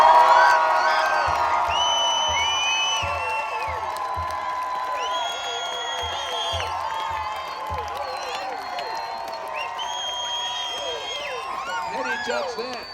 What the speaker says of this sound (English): Now, a round of applause, yell and scream for the Pirates.